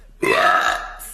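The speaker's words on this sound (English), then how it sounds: "because I burped" A single loud, rough burp after drinking ginger ale, lasting about a second and trailing off.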